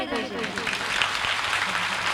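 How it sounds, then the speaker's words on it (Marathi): Audience clapping at a Marathi kirtan, a dense, steady burst of applause from a crowd, sustained and fairly loud throughout with some voices mixed in. "मग जोरदार टाळी झाली पाहिजे।"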